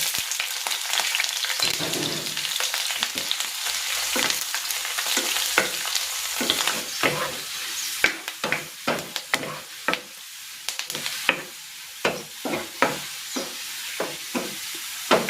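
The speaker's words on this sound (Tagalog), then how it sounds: "Ipiprito ko muna dito itong luya at itong bawang." Ginger and garlic fry in cooking oil in a pan with a continuous bright sizzle, and a run of sharp, rhythmic spatula taps and scrapes grows busier toward the end. Close and unaccompanied by speech.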